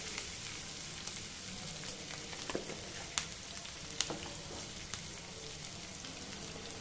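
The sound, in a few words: ingredients with turmeric frying in a pan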